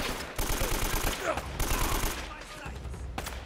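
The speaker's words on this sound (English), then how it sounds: "Who's shooting at me?" Rapid bursts of gunfire from the Uncharted video game, a loud, rhythmic series of shots filling most of the span, with brief pauses between volleys.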